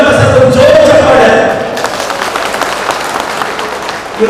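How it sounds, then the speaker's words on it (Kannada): Loud clapping from a crowd at a Valmiki Jayanthi gathering greets an officer being honoured, strongest at first and then thinning into scattered claps as it fades over a few seconds. "ನಂಜುಂಡಪ್ಪ ಸರ್ ಒಂದು ಜೋರು ಚಪ್ಪಾಳೆ."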